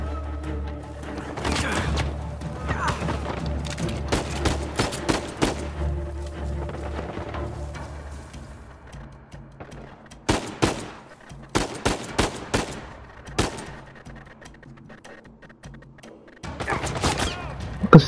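Gunfire in the Uncharted 4 video game on crushing difficulty: rapid bursts of automatic fire and single sharp shots crack repeatedly, loud and close, interspersed with impacts and a low rumbling game backdrop.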